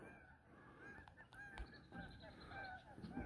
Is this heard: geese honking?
yes